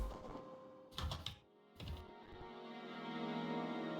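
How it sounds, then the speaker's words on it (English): Close, quiet typing on a computer keyboard: short bursts of clicking keystrokes separated by pauses, followed by a low steady background hum. "Yeah, I hear Ben typing on his keyboard."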